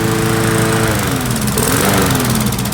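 A Briggs and Stratton small engine runs loud and close, a steady, buzzing, mower-like drone that holds without a break.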